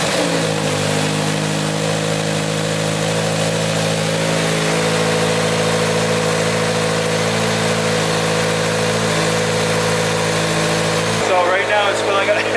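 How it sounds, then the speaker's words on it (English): A Toyota GR86 engine fitted with an Accusump oil accumulator starts up and settles into a steady, loud idle with a constant low hum, ending with a brief shift near the end. "So now I'm going to turn the engine on."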